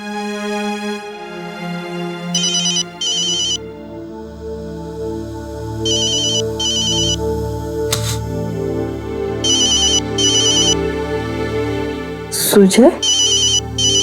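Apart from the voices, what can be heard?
phone ringing during a call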